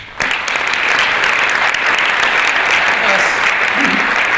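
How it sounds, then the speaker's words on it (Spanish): An audience at a talk on the Spanish economy bursts into loud, sustained applause that starts abruptly and holds steady. "Un aplauso, señores."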